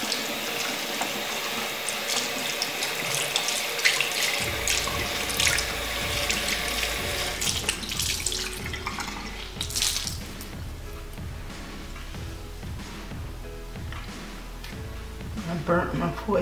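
Tap water runs into a sink while a face is wetted before cleansing, a continuous close splashing and gushing that breaks into uneven splashes and drips as hands scoop water.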